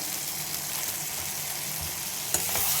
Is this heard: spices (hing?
yes